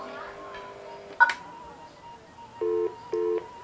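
Touch-tone beeps from a homemade DIY telephone device, with a sharp click as the hash key is pressed, then a steady tone followed by short repeating beeps, heard up close.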